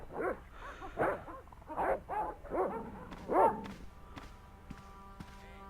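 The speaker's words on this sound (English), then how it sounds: "Okay, that's where the dogs are." Several dogs bark in a short run of loud, close yaps in the Broken Sword adventure game, followed by fainter background game sounds without speech.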